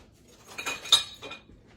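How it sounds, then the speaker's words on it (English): Metal kitchen utensils clink and rattle a few times in quick succession as a whisk is grabbed from a drawer while making chocolate cream cheese pound cake, close and fairly light. "I'm gonna grab a whisk real quick"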